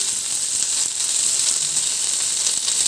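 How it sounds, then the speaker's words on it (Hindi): Potatoes for aloo do pyaza are stir-fried in a pan, giving a steady, even hiss of sizzling oil throughout, with faint scrapes now and then and no talking. "इनका कलर चेंज होने तक हम इसे पलट के भूनते रहेंगे।"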